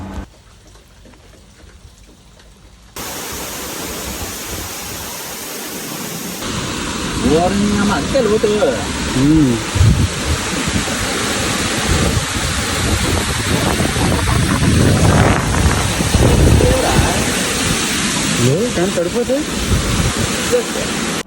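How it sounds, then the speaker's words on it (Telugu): Water rushes and roars steadily into a water tank in a loud, continuous stream, with faint voices now and then beneath the noise. "కరెక్ట్గా మేము వెళ్ళిన టైంకి వాటర్ అయితే వదిలాడు. సౌండ్స్ మీరే వినండి."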